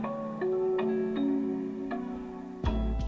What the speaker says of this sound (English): This is a melody from the Jaws kit right here.